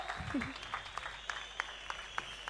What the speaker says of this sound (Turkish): Alkışlar gelmeye başladı.